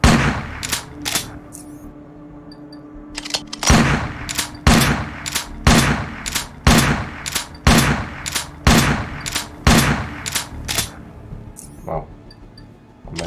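Shotgun blasts and assault rifle fire in the game Underrail ring out as a steady series of loud, sharp reports about a second apart, with a few quicker shots and some voices in the background.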